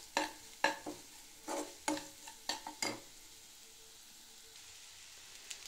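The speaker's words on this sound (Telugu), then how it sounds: "అన్నీ ఫ్రై అయిపోయిన తర్వాత ఫైనల్గా రైస్ వేసుకొని మిక్స్ చేసుకోవడమే అన్నమాట" Vegetable fried rice being stirred together in a pan, with a series of sharp scraping and clattering strokes of the spoon against the pan in the first three seconds, then a soft frying hiss, with a faint clink near the end.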